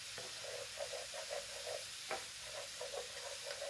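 A spoon stirs olive pickle in a pan, producing quiet repeated scraping strokes in a steady rhythm over a soft simmering hiss, with one sharper knock midway.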